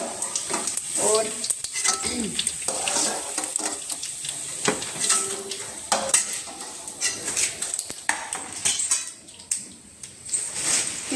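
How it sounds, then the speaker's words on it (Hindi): Kachori frying in hot oil in a home kitchen, a steady sizzle under repeated metallic clinks and scrapes of a stirring utensil against the pan, fairly close. "तो यहाँ पर बन रही है गर्मा गर्म कचरी"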